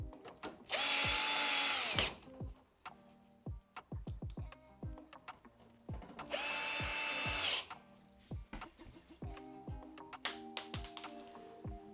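A power drill drives screws into a Fisher Paykel tumble condenser dryer, with two sustained whirring runs of about a second each, followed by clicks, clatter and quieter handling noises.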